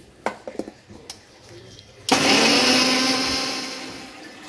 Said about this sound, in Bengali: কয়েকটা আমন্ড ছাড়িয়ে নিয়েছিলাম, ওর সাথে একটু দই দিয়ে বেটে নিচ্ছি